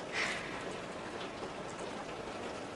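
Steady rain hisses close by, a dense even patter with no voices.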